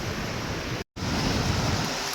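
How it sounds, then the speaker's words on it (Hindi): The Saraswati river roars loudly and steadily, a dense rush of water that briefly cuts out once before resuming. "शोर काफ़ी ज़्यादा है इस नदी में।"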